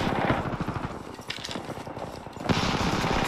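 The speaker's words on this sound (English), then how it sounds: "You can see where fucking gunshots are." Rapid automatic gunfire from an Apex Legends firefight, dense bursts of shots crackling continuously and loudly, with a sharper surge near the end and no talk over it.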